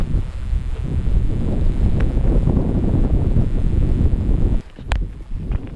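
Strong crosswind on a sailboat at sea, a loud continuous roar of wind buffeting the microphone with rushing water beneath, easing abruptly near the end to quieter gusts and faint creaks.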